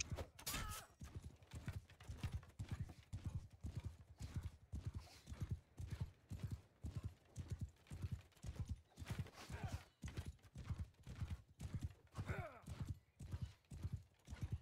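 Horse hooves gallop in a steady, rapid rhythm in the Bannerlord video game during a 5v5 multiplayer battle, loud and close, with occasional whinnies and faint voices behind.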